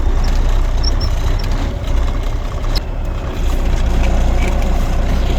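A 1992 International 9200i truck with an N14 engine runs and drives after sitting since 2008, its diesel rumble steady and close, with a few brief hissing bursts like air brakes.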